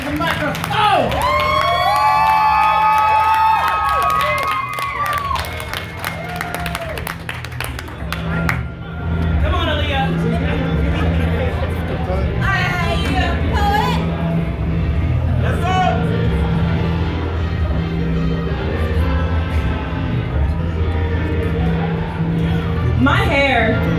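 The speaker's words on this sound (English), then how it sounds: "Let's get that applause rolling" An audience at a Utah Arts Festival team poetry slam final cheers and whoops loudly at first, then the crowd noise carries on under amplified talking for the rest of the stretch.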